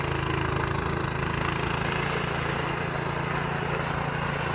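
A snowblower's engine drones steadily while clearing a snowy driveway, a constant mid-pitched mechanical roar with a faint rattle, unbroken and at moderate distance, with no voices.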